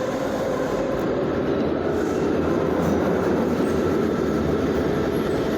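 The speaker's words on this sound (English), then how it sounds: "That's a 10 trolley." A SEPTA route 10 trolley at 13th Street Station gives a loud, continuous rolling rumble of rail wheels and car body noise, close by and unbroken, with no voices.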